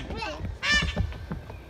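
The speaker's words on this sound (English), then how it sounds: "That bird's honking." A bird honks at a zoo, with a loud, close harmonic call standing out near the middle and softer honks around it, while children and adults talk excitedly nearby.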